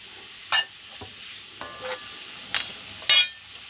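Chopped garlic, curry leaves and chili fry in hot oil for mango pickle, a steady sizzle broken by a few sharp spitting crackles and soft stirring knocks close by.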